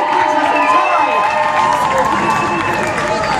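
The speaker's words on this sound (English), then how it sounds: "So please, one last huge round of applause for all 4 artists from Havant." Loud crowd in a packed hall cheering, shouting and clapping for four performing artists, a dense continuous roar of voices with applause underneath throughout.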